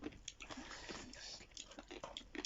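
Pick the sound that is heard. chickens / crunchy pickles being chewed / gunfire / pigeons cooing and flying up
crunchy pickles being chewed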